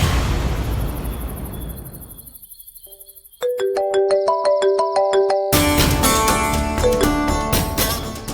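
At night, crickets and a soft hiss fade toward near silence, then a loud, steady electronic phone ringtone starts and keeps playing as a repeating, chiming melody.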